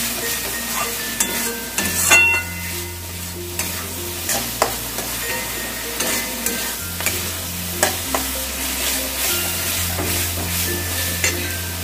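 Jackfruit curry with yogurt and sugar sizzles and fries in a pan while being stirred, with scraping and clinking strokes over a steady sizzle.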